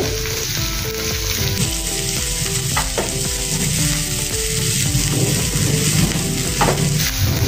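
Moong dal batter with finely chopped green chili and ginger sizzles loudly in a pan while a spoon stirs and scrapes through it in steady strokes, with no voices over it.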